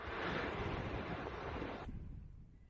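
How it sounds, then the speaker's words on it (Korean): Glacier-fed waterfall in rugged Kamchatka wilderness, a dense, steady roar of rushing water heard from nearby that drops abruptly to a quieter hiss partway through, with no voices. "무드롭스키의 빙하가 만든 폭포가 보인다."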